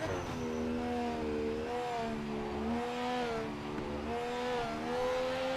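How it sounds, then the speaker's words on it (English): Rotary-engined race car in Project Motor Racing, its buzzing engine note climbing and falling through repeated revs and gear changes, loud and steady throughout. "I can see they tried to mimic the rotary sound"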